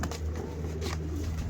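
A pigeon of a prized breed line coos while held in the hand, soft low throaty pulses repeating close by with no talking.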